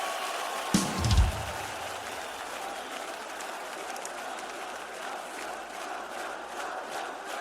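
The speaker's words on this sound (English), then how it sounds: "Crowd's into it." A concert crowd at a show in Milan roars in a dense, steady wash of cheering, opening with a brief loud thump and then holding a sustained distant crowd noise.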